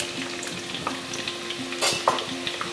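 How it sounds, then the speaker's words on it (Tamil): Onions for chicken keema pulao are sautéing in a pan with a steady close sizzle. Light stirring scrapes and taps come through on top, and a couple of sharper clinks sound near the end. No one speaks. "நல்லா வதக்கி விட்டுக்கலாம்."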